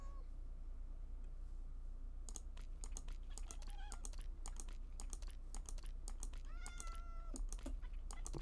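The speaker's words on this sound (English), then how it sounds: "Wow, that's a stubborn cat." A stubborn cat meows in a Minecraft-style game, its short calls rising and falling in a cluster near the end over steady clicking of a computer keyboard.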